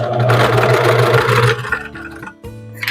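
A sewing machine stitching illusion tulle for a birdcage bridal veil, with a steady fast mechanical hum for about a second and a half, then shorter bursts and a brief stop, heard up close.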